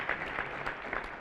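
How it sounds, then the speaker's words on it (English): An audience gives a round of applause at a public event, steady continuous clapping heard from a short distance. "Y'all give him a round of applause."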